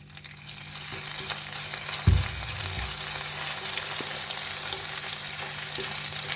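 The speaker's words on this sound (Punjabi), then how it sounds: "ਹੁਣ ਆਪਾਂ ਇਹਦੇ ਵਿੱਚ ਨਾ ਅਦਰਕ ਦਾ ਪੇਸਟ ਪਾ ਦਾਂਗੇ" Hot oil sizzles in a steady, close hiss as ginger paste fries with cumin and asafoetida, with a single soft thump partway through and no voices.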